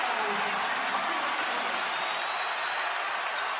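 A basketball arena crowd at a Michigan versus UCLA game roars in steady, loud cheering and applause that fills the whole stretch without letting up.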